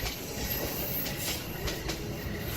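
A cartoon train stands at a station platform, its steady rumble and soft rhythmic wheel clicks sounding at moderate distance.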